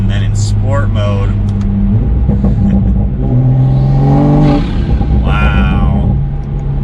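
A Toyota Supra A90 fitted with a Pedal Commander accelerates in sport mode, its engine note rising and swelling in a loud, close rumble from inside the car while a person talks over it.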